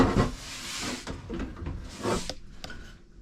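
A roller door on a bedroom cabinet in a 2019 Coachmen Mirada 35BH motorhome slides open with two close rattling, hissing rolls, then a couple of light clicks as it settles.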